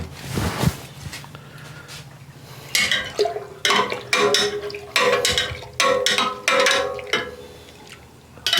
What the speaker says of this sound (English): I just wanted to give it a stir.